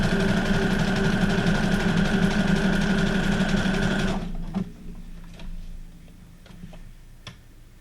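A Brother SQ9185 sewing machine stitches steadily around the edge of a card, a loud, continuous rapid whir for about four seconds, then stops, leaving faint clicks and handling noises.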